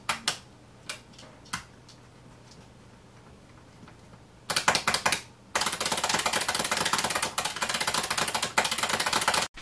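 Keys on a beam spring keyboard click sparsely at first, then break into bursts of dense, fast typing that grows loud and continuous, a crisp clatter close up with no talking.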